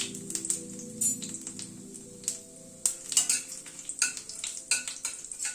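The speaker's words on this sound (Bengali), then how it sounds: "সব দিয়ে ফোড়নটাকে একটু ক্র্যাক করিয়ে নিচ্ছি।" Five-spice tempering and asafoetida crackle in hot oil over a low gas flame, with close, irregular pops and sharp spatters rising over a steady sizzle and occasional stirring clinks.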